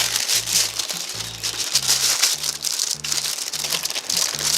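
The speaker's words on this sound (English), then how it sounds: "I'm gonna peel this here paper back" Paper is peeled back from a pair of Air Max 1 Clot sneakers in a box. It makes close, repeated crinkling bursts in an uneven rhythm over a faint low tonal hum.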